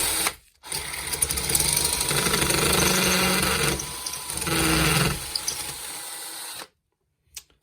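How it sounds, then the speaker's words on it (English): A power drill runs in long, loud, whining bursts into a brick and plaster wall, pausing briefly between runs, then stops, followed by a short knock. "how far down I need to drill into the hole"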